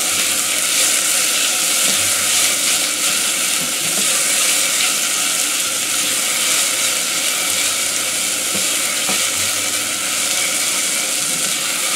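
Onions sweating in a pan as the base for a tomato mother sauce, a loud, steady close sizzle and hiss running unbroken throughout.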